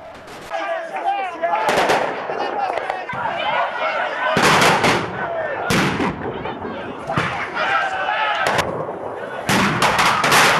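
Firecrackers set off by a protesting crowd at a demonstration where flags were burned, a dense run of sharp bangs and crackling bursts going off repeatedly and loudly over the noise of the crowd.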